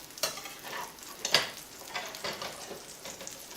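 Lentil burgers fry in a pan on an electric stove set just below medium, giving a soft, uneven sizzle with a few brief crackling spikes and no voices.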